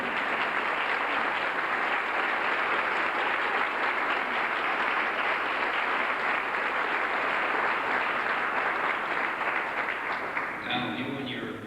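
A hall audience at a 1999 Hall of Fame induction ceremony claps loudly and continuously, a dense even wash of applause that tapers at the very end.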